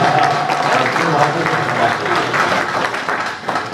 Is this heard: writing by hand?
no